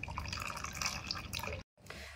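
Water trickling and dripping from the outlet hole of a newly installed unit, a steady close splashing flow that cuts off abruptly near the end, then resumes faintly.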